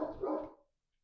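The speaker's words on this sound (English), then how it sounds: "I don't even know what you're barking for." A dog gives one loud, close bark that lasts about half a second, and then everything goes quiet.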